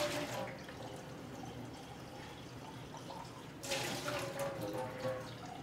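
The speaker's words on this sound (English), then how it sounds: "Running the water is done so the standing water clears the plumbing" Water running steadily from a tap to flush standing water from the plumbing before sampling, a continuous splashing hiss that swells louder toward the end, with no voices.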